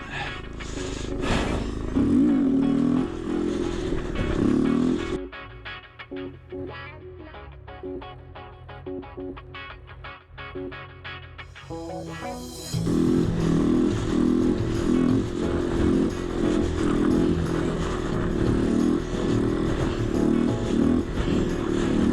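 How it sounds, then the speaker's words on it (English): A Kawasaki Z125 motorcycle climbs a snowy hill and pops a wheelie, its small engine revving loud and close, easing off briefly mid-run, then roaring back up at full throttle. "Just cruising up the hill, just doing a wheelie."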